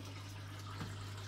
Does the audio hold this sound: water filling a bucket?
yes